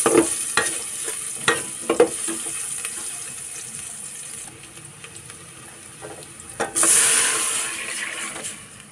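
Onion, garlic and ginger sautéing in a pan, a low sizzle with intermittent close spatula clacks and scrapes early on, then a louder rushing burst near the end.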